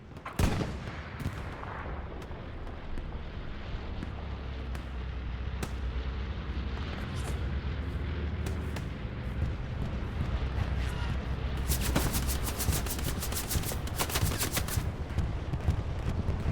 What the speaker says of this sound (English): Got an air raid going through the point